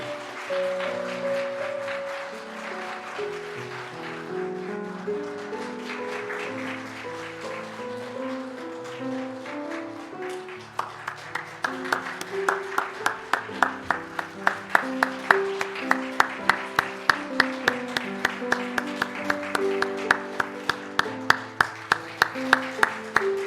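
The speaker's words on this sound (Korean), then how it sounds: "우리 드릴 때 축복하고 또 감사하는 박수 주시면 감사하겠습니다." A church congregation at a Korean Sunday worship service during a plaque presentation, with music playing and then steady rhythmic clapping that builds halfway through and keeps going in an even beat.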